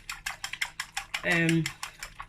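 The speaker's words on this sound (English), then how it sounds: "So you whisk your egg." Egg being whisked in a bowl for a chicken pie, a run of quick, evenly spaced metallic taps at close range, briefly overlapped by a short hum or voice in the middle.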